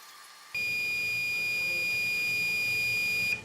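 A cooking timer goes off with a steady, high electronic tone that holds for about three seconds before cutting out, fairly loud and close, with no talking.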